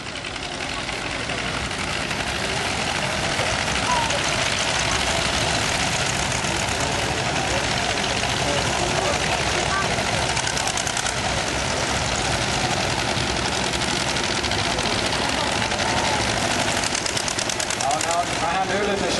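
Vintage tractor engines roar at full throttle at an old machinery show in Oulainen, a dense, continuous loud drone with rough knocking texture filling the whole stretch, with no clear speech over it.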